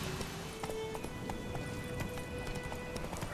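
Horse hooves clip-clop at a quick, regular pace in The Witcher 3, crisp repeated clicks over a constant ambient bed, moderately close, with no talking.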